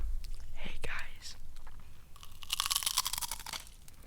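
Pringles chips crunched and chewed close to a microphone, with whispery mouth sounds early on and a dense burst of sharp crunches in the second half.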